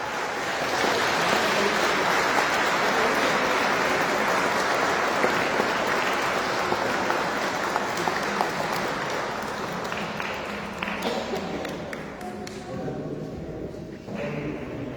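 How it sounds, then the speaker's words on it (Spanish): A church congregation at Sunday Mass applauding the fathers, a broad steady wash of clapping that fills the space for about eleven seconds, then thins and tapers off with scattered claps. "Vamos a darle un aplauso a los papás."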